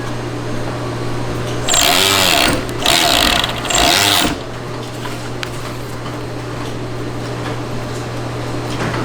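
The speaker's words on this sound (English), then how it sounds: "This is our serging machine, which actually will cut a small part of the canvas off, but it puts a locking stitch on the edge" A serging machine cuts and lock-stitches the edge of canvas in a factory, its motor whirring up into a loud, rapid mechanical chatter in three short bursts over a constant low electrical hum.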